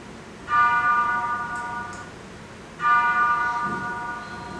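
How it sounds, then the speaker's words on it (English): A large bell tolls twice, a couple of seconds apart. Each deep, ringing strike hangs and slowly fades. "That's the bell tolling for you hypocrites"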